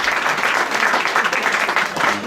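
Steady, dense applause from a crowd at a Paris restaurant awards evening, a loud continuous wash of many hands clapping together for the full stretch with no talk over it.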